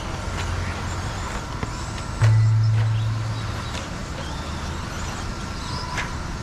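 2WD RC stadium trucks race around a track at Novi, heard as a continuous buzzing motor drone with a faint steady whine and a brief swell from a passing truck.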